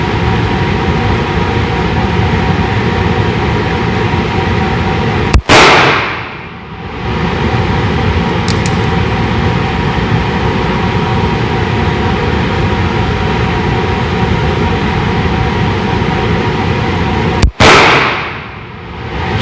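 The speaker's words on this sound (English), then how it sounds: "Well, at least we know that the gun went off every time." Two sharp, loud single shots from a Cobra Derringer 9mm pistol at a shooting range, spaced about twelve seconds apart, each cracking out over steady background rumble with no talking.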